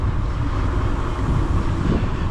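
Strong wind buffets a cycling vlogger's microphone while riding a bike outdoors, a loud continuous low roar and rumble, no speech.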